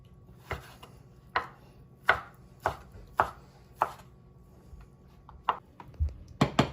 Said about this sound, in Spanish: Y con el resto lo corto en pedazos más grandecitos.